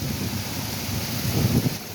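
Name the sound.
heavy rain in a storm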